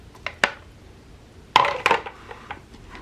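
A Hamilton Beach Mini Multi Cooker lid is lifted after cooking oatmeal, giving a light clink near the start and a cluster of louder metallic clatters and knocks midway, close and otherwise quiet.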